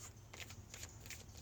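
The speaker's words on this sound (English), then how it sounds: "Let's pull 3 Archangel cards." Archangel oracle cards being shuffled by hand, a soft papery riffling in a few quick bursts, close and faint with no talking.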